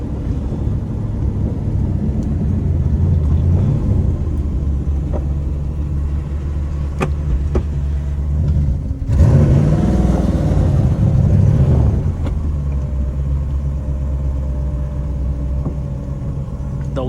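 A car with a swapped-in 6-speed manual transmission on a test drive, a continuous loud low engine and road rumble heard from inside the cabin, swelling briefly partway through while voices talk faintly over it.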